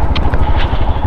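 A motorcycle engine runs with a loud, close, rough low throb, steady for about a second with a few light clattering ticks on top.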